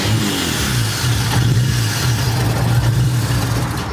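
A Nissan 370Z fitted with a swapped Q60s engine starts for the first time, its engine catching and settling into a steady, loud, low rumbling idle that runs throughout, close by and without talk.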